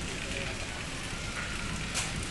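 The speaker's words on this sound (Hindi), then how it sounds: "पर इतनी भयंकर बारिश आ रही है ना, पूरा तालाब ही बन गया यहाँ पे" Heavy rain pours down hard enough to flood the ground into a pond, a dense, loud, continuous hiss and patter with no breaks.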